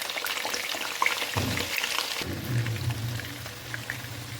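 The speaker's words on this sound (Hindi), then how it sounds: "तो यहाँ पे हम इसे फ्राई कर लेंगे" Cut potatoes hit hot ghee with a sudden sharp sizzle that settles into steady close frying crackle, with scattered pops and spatters over a low hiss.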